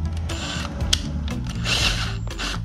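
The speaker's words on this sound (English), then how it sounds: "I'm just gonna use my size 4 bit again. And put these screws in one by one." Screws driven one by one into an electric scooter rim with a size 4 bit, heard as close whirring bursts from a driver with small clicks and metallic ticks between them.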